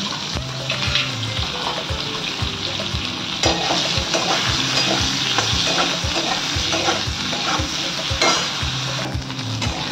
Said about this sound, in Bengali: এই তেলেতে আমি পেঁয়াজগুলো আর বেগুনগুলোকে ভেজে নেবো ভালো করে।